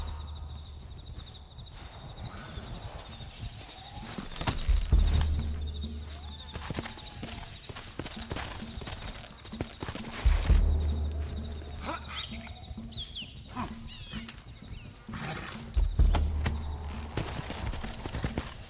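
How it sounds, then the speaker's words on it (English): Horses' hooves clip-clop in Red Dead Redemption, a rhythmic clatter of steps that swells in louder bursts at intervals over a low background, with faint game ambience around it. "Looks like Carlos left us some horses."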